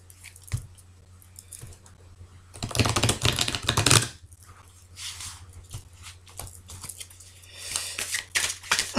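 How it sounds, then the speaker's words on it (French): Tarot cards being shuffled by hand, producing a dense burst of riffling flutter midway through, with lighter scattered card clicks and rustles before and after against a low steady hum. "le temps que je batte des cartes"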